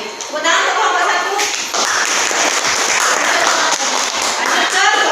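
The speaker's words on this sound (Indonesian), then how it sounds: "tepuk tangan untuk kelompok 1" A classroom group claps for the first student team during a university teaching session: dense, loud, close applause that runs for about five seconds with a brief dip midway, with voices talking over it.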